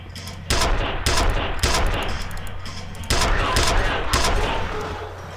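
Loud, close bursts of automatic gunfire from the video game F.E.A.R., coming in several rapid volleys separated by brief pauses.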